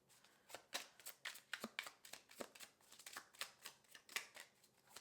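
A deck of tarot cards shuffled by hand in a steady run of quick riffling, papery bursts, close and fairly soft, with no talking over it.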